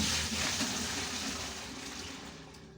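Water pours steadily into a container already partly filled, about four liters going in while making paint at home, a broad splashing rush that slowly tapers.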